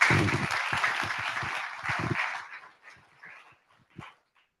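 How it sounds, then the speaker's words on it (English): Applause from an audience at a contest fades out over a few seconds, leaving scattered claps and light thumps at the end. "Give them another round of applause."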